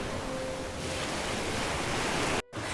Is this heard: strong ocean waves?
yes